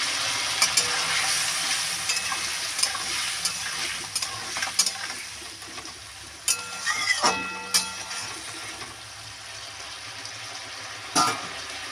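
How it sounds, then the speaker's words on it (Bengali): Vegetable curry simmering in a pan with a little added water, giving a steady low bubbling sizzle throughout, with occasional spoon clinks and stirring scrapes close by. "দেখো সবজিটা কিন্তু ফুটে এসেছে"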